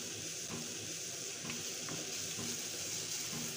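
Masala sizzles softly in a pan after a splash of water is added, a steady low fizzing and bubbling heard close and alone.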